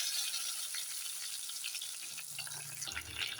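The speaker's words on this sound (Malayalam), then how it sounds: "അതൊന്ന് ചെറുതായിട്ടൊന്ന് മൂത്തിട്ട് വേണം സവാള ഇടാൻ കേട്ടോ" Chopped green chilies, curry leaves, ginger and garlic fry quietly in a pan, a faint, even sizzle with a light rattle near the end.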